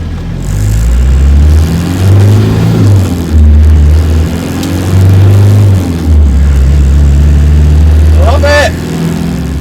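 A Land Rover Defender 90 engine drones steadily while the vehicle is driven, a loud, low rumble that rises and falls in pitch through gear changes, with a brief higher whine near the end.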